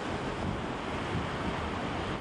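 Ocean surf washing back over an exposed reef at an island lagoon as the tide returns, a steady loud broadband roar of waves with wind buffeting, no voices.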